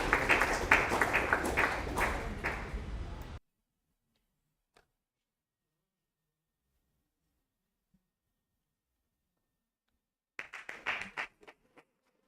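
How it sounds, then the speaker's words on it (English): Audience applause at a school awards day, a burst of close clapping that stops abruptly, followed by near silence and then a shorter, thinner round of clapping. "A round of applause."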